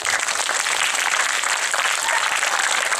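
A school audience at a WindSync wind quintet performance breaks into dense, loud, steady clapping that fills the whole stretch, with a faint crowd murmur underneath.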